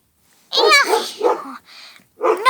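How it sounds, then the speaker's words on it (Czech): Dogs bark nearby at a campsite, several sharp barks in quick succession with short gaps between them, loud and close. "Že tady štěkají okolo."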